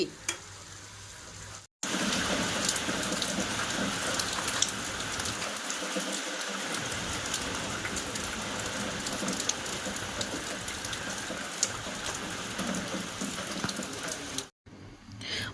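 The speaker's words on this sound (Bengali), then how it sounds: "বাইরে তো কন্টিনিউ বৃষ্টি হতে আছে" Heavy, continuous rain falls outside on a stormy day, a dense, even hiss that fills nearly the whole stretch, briefly cut off at the start and end.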